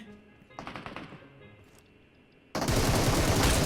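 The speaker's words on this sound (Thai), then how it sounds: "แต่คนมันยิงกันไง" Automatic rifle fire in PUBG Mobile: faint, quick shots rattle early, then a sudden loud, dense burst of close gunfire takes over and continues to the end.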